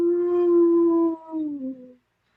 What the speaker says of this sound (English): Dogs howling.